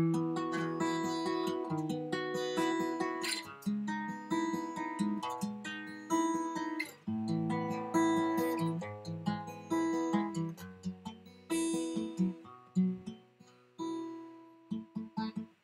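A guitar strums a sequence of chords, each ringing out and decaying before the next, played alone at a moderate, unhurried pace.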